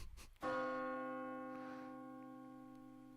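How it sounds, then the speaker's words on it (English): A sampled bell in a song rings out with one bright struck tone, its sustained harmonic hum decaying slowly and prominently up front with no voices. "Yep, just ringing the lunch bell."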